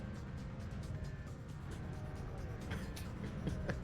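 Daily Miami road traffic with cars passing by, a steady broadband rumble with several vehicles whooshing past at moderate distance, no talk over it.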